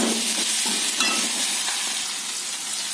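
Tomatoes sauté with turmeric and rock salt in a pan, making a loud, continuous close sizzle and crackle with faint stirring scrapes and no voices.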